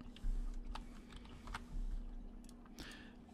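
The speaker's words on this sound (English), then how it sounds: "if I can type" Soft, close keyboard typing at a computer, a short run of scattered key clicks with uneven rhythm over a faint steady hum, no talking.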